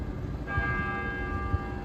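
A church bell rings near a street with beer stalls in Germany, a sustained metallic tone with lingering overtones that rises over steady outdoor background noise.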